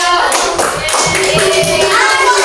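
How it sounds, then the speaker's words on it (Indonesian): Children in a classroom clap together for Anissa in dense, continuous applause that fills the room loudly, with voices and cheering blended in. "Tepuk tangan buat Anissa, ayo."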